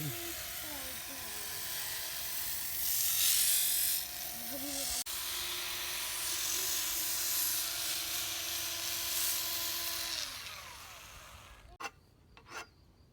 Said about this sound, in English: Just practicing drilling holes in this piece of wood.